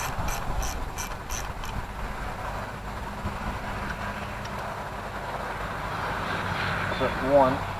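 A ratchet clicks rapidly in short bursts while flywheel bolts are started on a 1952 Ferguson TO-30 tractor engine, close by, with mechanical clatter and a low background hum throughout.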